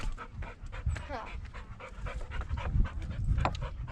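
A dog pants close by in quick, rhythmic breaths, steady throughout while people chat in friendly voices over it.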